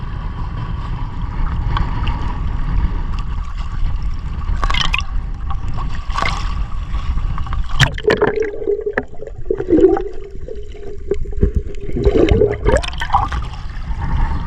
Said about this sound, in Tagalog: Wow, ang lalaki ng alon.